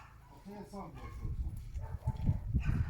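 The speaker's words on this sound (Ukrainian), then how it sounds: "Може Ріта там бігала, вона потерялася і виє." A dog, thought to be lost, gives a few whining, howl-like cries early on over a busy, muffled background of rustling and low thumps.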